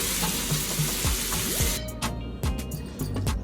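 Kebabs frying in a pan, their second side cooking in a soft continuous sizzle under clattering utensil taps and a few tonal squeaks, close, with the hiss dropping away partway through.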